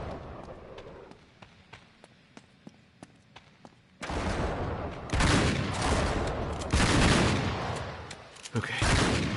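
Shotgun blasts in the action game Uncharted 3: Drake's Deception, quieter sharp sporadic shots early on, then several loud, close booming blasts in quick succession with brief gaps between them.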